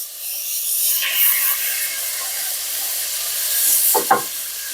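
Beef chunks sautéing in a pan on a wood stove give a steady, soft sizzle and hiss, with a pair of brief scraping stirs near the end.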